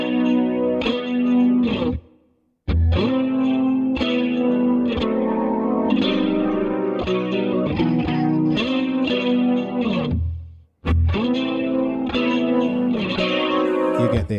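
Multi-voice octave-shifted electric guitar part heard alone, loud and effected with chorus and echo, busy phrases broken by two short silences.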